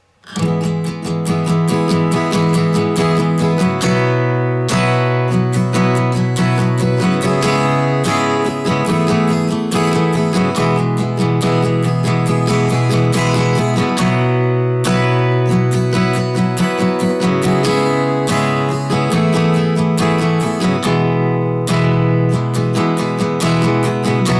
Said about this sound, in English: we're gonna come in on kind of a 16th note strum pattern